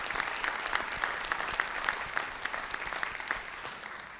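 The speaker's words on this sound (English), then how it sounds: "They deserve a great round of applause for the volunteer work they do." Faint scattered applause from a town meeting audience, irregular claps from a modest crowd heard at a distance in a large room, tapering off near the end.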